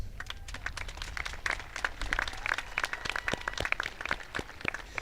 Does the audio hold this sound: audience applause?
yes